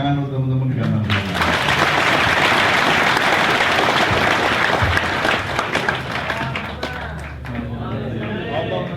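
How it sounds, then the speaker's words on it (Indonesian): An audience at a Cak Nun Gambang Syafaat gathering applauds the musicians with loud, dense clapping that builds quickly, holds, then thins toward the end, with voices mixed in. "tepuk tangan untuk teman-teman gaman"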